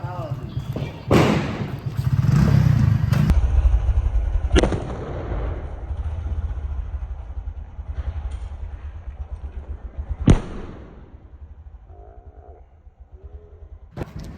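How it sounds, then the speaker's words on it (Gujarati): A Diwali firecracker goes off outdoors with two sharp, loud bangs several seconds apart, among other thumps and crackling, while people talk and shout nearby. "2 ભડાકા વાળું છે"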